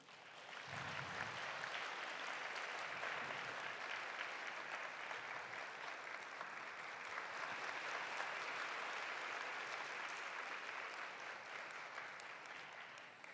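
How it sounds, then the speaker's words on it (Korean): A church congregation applauds in welcome during a young adults' service, a long, steady, fairly distant roar of many people clapping that holds an even intensity throughout. "사랑의 마음을 담아 환영의 박수 부탁드립니다."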